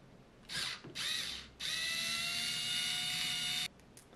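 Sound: removing corner screws from a Sartorius analytic balance

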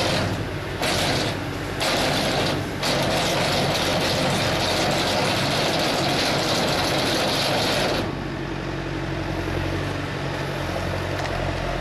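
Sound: tractor-driven hay bale feeder running

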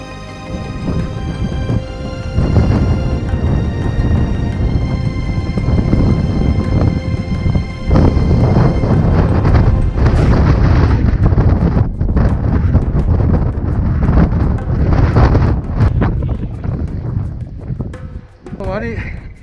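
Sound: strong wind gusts on snowy Mount Nasu

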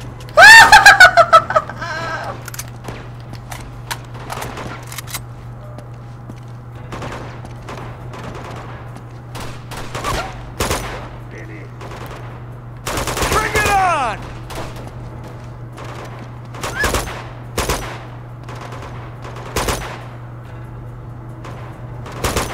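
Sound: gunfire in the video game Uncharted 2: Among Thieves

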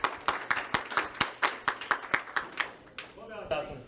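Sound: audience applause at bridge building finals

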